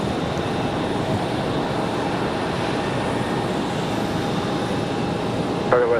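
A Boeing 737-700 airliner at Raleigh-Durham airport gives off a loud, continuous engine rumble and roar, heard from a distance and steady throughout, with a brief higher-pitched tone near the end.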